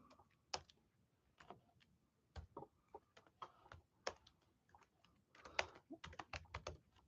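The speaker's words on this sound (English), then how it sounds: "If I can type." Typing on a computer keyboard, irregular bursts of key clicks with short pauses between flurries, close and fairly quiet, no talking.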